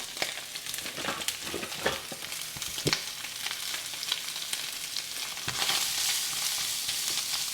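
Sausage searing in about a tablespoon of oil in a skillet, a steady close sizzle and crackle with small bursts and a few stirring clicks, running alone with no talk.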